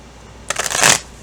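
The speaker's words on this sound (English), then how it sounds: "that's why I'm shuffling the cards" A deck of tarot cards is shuffled in one quick, close riffle of crisp rapid flutters lasting about half a second.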